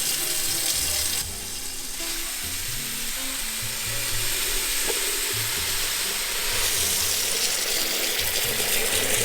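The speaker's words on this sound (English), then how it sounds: "And then we fill up the pot." Tap water runs steadily into a soup pot for chicken soup with rice, a continuous hissing rush with small clanks and a brief shift in tone midway, close and fairly loud with no talking.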